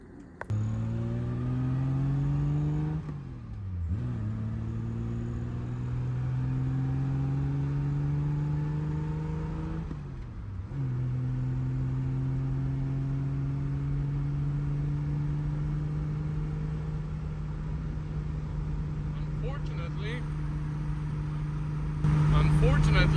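A 1969 Triumph GT6 with a steering vibration fault on a test drive, its engine droning steadily with a few gear changes that drop and rebuild the pitch, heard from inside the car.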